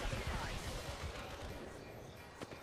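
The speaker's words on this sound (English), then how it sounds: "Opening fire." Rapid gunfire in Apex Legends, a burst of quick shots up front that continues more faintly amid game noise, with talking over it.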